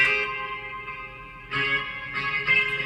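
Electric guitar run through a Quick Muse effects unit preset, sustained tones with heavy reverb and echo washing behind them, and fresh strummed chords entering in bursts at intervals.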